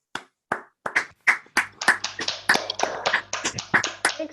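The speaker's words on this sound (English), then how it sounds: "give a round of applause to our speaker" Scattered claps from a few online meetup participants over their unmuted microphones, starting as single separate claps and building into uneven overlapping applause, near and dry.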